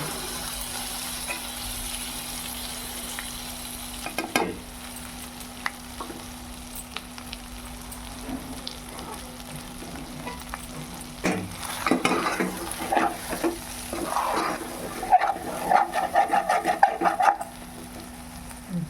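Homemade chicken fry sizzling in a pan after a squeeze of lemon juice, with a low continuous crackle and intermittent spoon stirs and scrapes clustering toward the end, close and fairly quiet.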